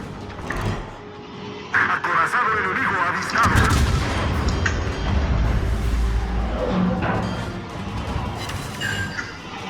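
Secondary guns of the tier X heavy cruiser Castilla firing in World of Warships, a series of heavy booming shots and crashes layered over rumbling battle noise, with a voice talking over it.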